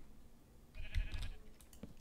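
A Minecraft sheep on a SkyBlock island gives a single short bleat, close and fairly quiet, with no talking.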